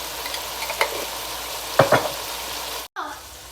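Vegetable chowmein with dark soy sauce being stir-fried, a soft steady sizzle with a few scraping stirs of a utensil against the pan, close and fairly quiet with no talking, ending in a brief cutoff.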